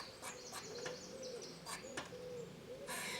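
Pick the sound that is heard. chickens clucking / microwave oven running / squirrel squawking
squirrel squawking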